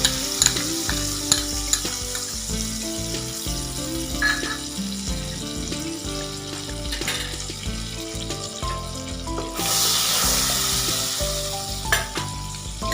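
Butter sizzles and fries in a pan while dal makhani is being cooked, a steady crackling hiss with stirring scrapes and clinks throughout, briefly louder near the end.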